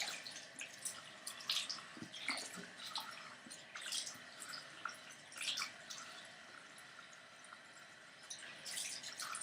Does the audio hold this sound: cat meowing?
no